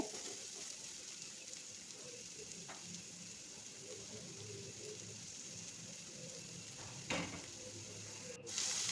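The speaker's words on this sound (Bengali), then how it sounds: "এখন এড়ে চেড়ে দিচ্ছি পেঁয়াজটাকে ভালো করে বেজে নিতে হবে" Onions with salt frying in a pan for tilapia chutney, a steady close sizzle with faint stirring scrapes and a couple of brief utensil knocks near the end.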